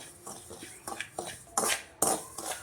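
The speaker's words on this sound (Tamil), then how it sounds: "இந்த 1 கப் ரவையை ட்ரை ரோஸ்ட் பண்ணிடுறேன்" One cup of semolina (rava) dry-roasting in a pan over a medium flame, a utensil stirring and scraping it in uneven bursts of scratchy clinks, close and fairly quiet, with a couple of louder strokes near the end.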